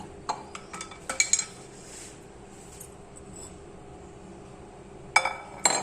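Glass vessels of cashew apple juice, a few sharp clinks and taps in quick clusters near the start and again at the end, quiet between, with no talk.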